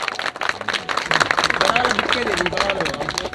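An audience at a network marketing event in Prayagraj applauds a guest actor, with dense clapping that swells and stays strong while a voice speaks over it.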